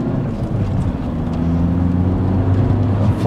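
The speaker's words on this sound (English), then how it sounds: "Full throttle all the way down." VW Golf Mk4 1.9 TDI wagon with track upgrades pulling hard at full throttle in second gear, a steady low diesel drone rising in pitch, heard close from inside the car with no talking.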